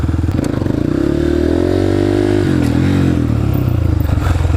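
A dirtbike engine revs hard and steady at close range while the rear wheel spins on concrete, a loud sustained roar with pitch rising and dipping, plus faint scraping.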